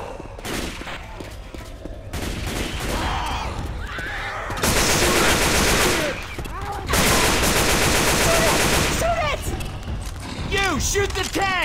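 Gunfire from a Left 4 Dead 2 fight against a tank, with dense automatic bursts and single shots blasting nearly nonstop at close range. Players shout over the shooting throughout.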